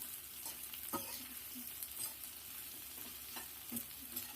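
Ivy gourd (dondakaya) frying in a pan with green chilies and curry leaves, a soft continuous sizzle broken by occasional scrapes and clacks of stirring.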